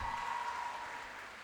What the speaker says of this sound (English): Give a huge round of applause for yourselves